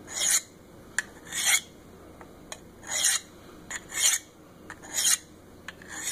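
A knife is drawn across a Work Sharp Field Sharpener in about six evenly spaced, raspy strokes, each a short gritty scrape, with small clicks between passes and a quiet background.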